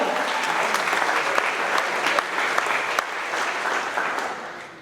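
Audience at a trucking company's monthly celebration applauding steadily throughout, a dense wash of clapping with scattered louder claps and a slight fade at the end.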